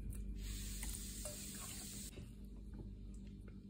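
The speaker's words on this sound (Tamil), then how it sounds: "சிக்கனை போட்டு நல்லா மிக்ஸ் பண்ணிக்கலாம்." Chicken pieces are stirred into a lemon and salt marinade for Chicken 65, giving a steady wet hiss and soft squelching close by, with no talk.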